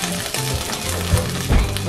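Tomato paste sizzles and fries in a hot pan for a Haitian dish, a loud, dense crackle with occasional stirring scrapes and no talking.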